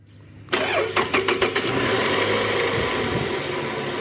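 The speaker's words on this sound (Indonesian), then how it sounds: "Sekarang kita mau starter nih guys." A 2008 Toyota Camry 2.4 engine fitted with a new fan belt and tensioner cranks briefly, catches with a few rough bursts and settles into a steady close idle, with no talking.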